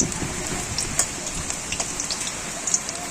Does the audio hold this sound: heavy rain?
yes